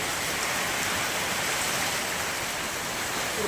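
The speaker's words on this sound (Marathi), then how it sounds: "भयान पाऊस चालू आहे अजून" A constant, thick roar of heavy rain falling in a windswept village storm, close and steady for the whole stretch with no talking.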